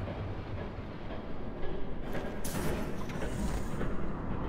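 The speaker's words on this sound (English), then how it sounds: "There's a train coming." A train approaching in the Batman: A Telltale Series video game, a steady low rumble and rattle that builds gradually, heard alone without speech.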